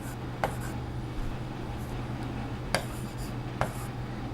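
Chalk or marker scratches across a classroom board during a Hindi literature lesson, a continuous rubbing stroke sound with a few sharp taps as strokes begin, over a low steady hum.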